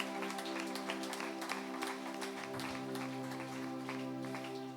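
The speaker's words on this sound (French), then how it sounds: "On applaudit." Congregation applauding during a church service, a dense steady wash of clapping throughout with a sustained tonal hum underneath.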